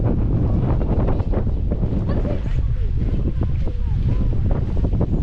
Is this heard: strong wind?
yes